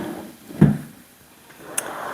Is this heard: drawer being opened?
yes